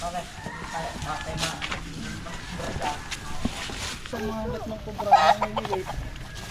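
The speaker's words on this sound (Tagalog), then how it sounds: "Ito po ay farm ng mga manok." Chickens cluck and squawk nearby on a farm, with people talking over the birds throughout.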